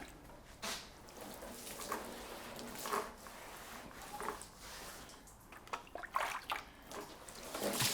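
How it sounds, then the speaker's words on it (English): Water splashes and runs in uneven bursts over a metal car part that was just stripped of paint and scrubbed, fairly quiet and close. "So we'll just go over it with some water."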